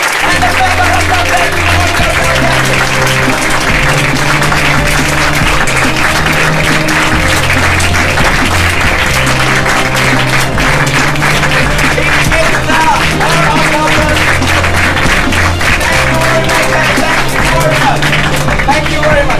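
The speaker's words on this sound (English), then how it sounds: "Start clapping right now, start clapping right now." An audience at a debate competition final claps continuously and loudly while music with a steady beat plays and people talk over it.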